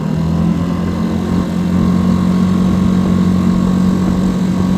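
A Mercury 3.5 outboard motor pushes a Quest Angler 10 boat at cruising speed, giving a steady, close, continuous engine drone with a low hum that holds even for the whole stretch, with no talking.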